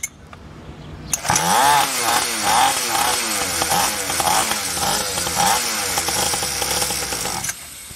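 A SYXmoto two-stroke dirt bike running on a bad fuel mix ratio starts abruptly and revs with throttle blips, a loud buzzing, wavering engine that rises and falls before cutting off, with someone speaking over it.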